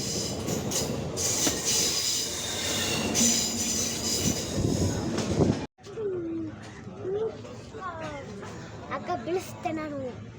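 A train running, with a steady rumbling roar and rattling that drops away briefly, then continues more quietly with squealing tones and voices talking.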